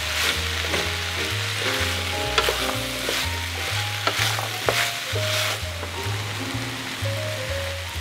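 Onion sweating in a hot oiled pan for jjajangmyeon, a continuous close sizzle and crackle with scattered spatters and faint scraping, steady throughout without any voice.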